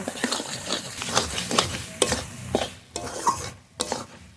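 Fried khalse fish and sponge gourd being stirred in a pan, with a spoon scraping in a steady series of close scrapes and taps over a light sizzle, alone without talk.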